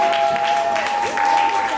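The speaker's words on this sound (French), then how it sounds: "On applaudit encore une fois" Applause from guests at a wedding evening party, a steady wash of clapping that fills the whole moment, with a sustained musical tone running underneath.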